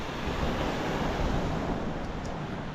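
Ocean waves wash continuously onto the seashore where boats are moored, a steady broad roar of surf mixed with wind buffeting the microphone, with no one speaking.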